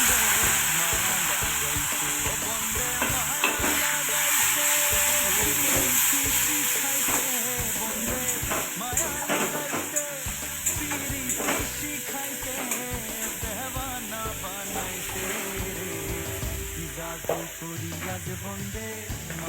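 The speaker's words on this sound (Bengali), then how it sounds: "পেঁয়াজ ঘষা, আদা ঘষা, রসুন ঘষা তেলের মধ্যে দিয়ে দিলাম।" Grated onion, ginger and garlic hiss and sputter loudly in hot oil, with steady frying and frequent stirring clatter throughout.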